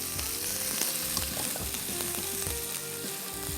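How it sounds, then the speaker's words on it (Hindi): Ginger and garlic frying in oil in a home kitchen, giving a steady close sizzle with light stirring clicks throughout, no voices. "इसको सबसे पहले हल्का सा करेंगे फ्राई"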